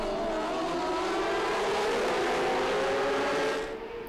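Superbike motorcycles launch off the start at the Lédenon circuit in a continuous, blaring roar of many engines that swells together and fades briefly near the end, heard at track distance with no voices.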